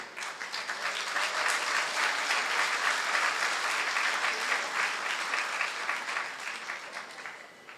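Audience at a Jamaican political party manifesto rally breaks into sustained, dense applause, a steady wash of clapping from a large crowd that swells and then tapers off toward the end.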